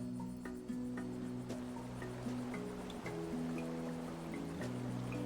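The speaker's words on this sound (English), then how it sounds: "Maybe it's behind the waterfall." Waterfall in the video game Zniw Adventure: a steady rushing wash of water under soft game music with chiming notes, moderately faint and continuous.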